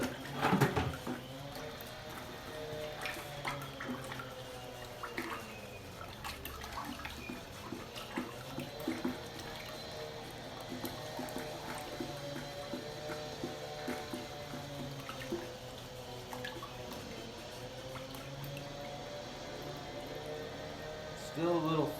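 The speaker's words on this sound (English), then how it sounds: "Take your clean stick," A stick stirs ceramic glaze in a bucket in a glaze room, giving a faint, continuous wet sloshing and swirling of thick liquid with occasional knocks against the bucket.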